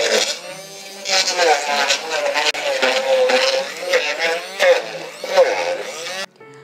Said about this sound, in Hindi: अभी मैं इसमें ब्लेंडर चला दूंगी ताकि ये अच्छे से इसकी विस्किंग हो जाए